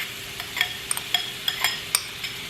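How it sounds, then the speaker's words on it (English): Chopped onion sautéing in olive oil in a pan, a faint steady sizzle broken by several light clinks and scrapes of stirring, with no talk. "So I'll saute the onions."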